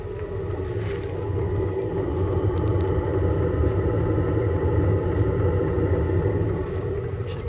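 A 5 kW diesel heater running for a house and caravan, giving a steady, loud, jet-engine-like roar and rumble close by with no talking.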